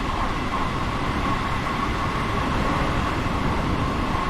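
An LIRR train in Train Sim World 3 rolls steadily toward New York Penn, a constant close rumble with a faint hum above it and no voices.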